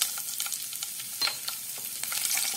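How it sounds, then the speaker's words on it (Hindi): Chopped green chillies and cumin seeds sizzle steadily in hot oil in a wok, with an even crackling hiss and a few spatula scrapes, close and moderately quiet, no voices. "3 कटी हुई हरी मिर्च डालेंगे।"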